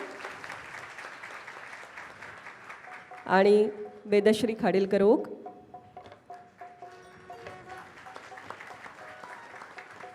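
An audience at a Marathi stage concert of songs breaks into a loud burst of applause for the singers. It rises suddenly, lasts about two seconds, and fades as a host speaks over the hall.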